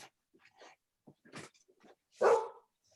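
Dogs bark in a few scattered, sharp yaps and whimpers at close range, ending with one louder bark, with quiet gaps in between and no speech.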